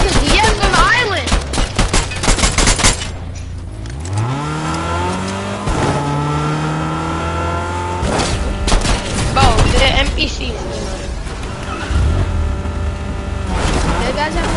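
Fortnite battle royale gunfire with rapid bursts and sharp shots mixed with game engine and vehicle noise, loud and near, with people talking excitedly over the action.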